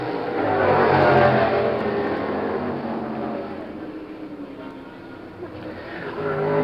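Can-Am race cars from 1971 at Mid-Ohio, a loud engine roar swelling and fading as cars pass at mid distance on the circuit, with a commentator's voice heard over the engines.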